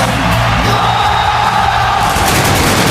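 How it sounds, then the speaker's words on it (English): A wrestling arena crowd cheering and roaring for Cody Rhodes' entrance, a dense, continuous wall of loud cheers and yells with no breaks and no commentary over it. "That crowd sounds like it gets louder every time"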